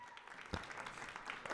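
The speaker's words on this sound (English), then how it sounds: "Round of applause for all of our winners." Applause from an audience at a student design awards ceremony, steady dense clapping over the short span with no break.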